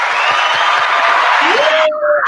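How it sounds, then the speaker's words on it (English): Canned applause and cheering from a sound-effect button on a live web show, a dense crowd roar with whoops that cuts off abruptly near the end, loud and alone. "Hit the applause button"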